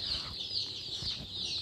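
Black Australorp and Rhode Island Red chicks in a brooder, a steady crowd of high, continuous peeping cheeps close by, without talk.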